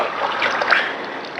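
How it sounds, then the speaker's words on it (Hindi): Water is poured over a person's head to wash it and bring down a fever: a steady, close trickle and splatter lasting about a second and a half, with no talking. "मैं पानी डालता हूँ।"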